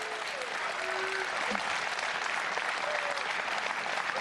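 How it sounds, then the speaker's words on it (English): Studio audience applause for a winning esports team at a League of Legends match, a steady wash of clapping from a large crowd with faint cheering, sustained and even throughout. "I think an applause is in order"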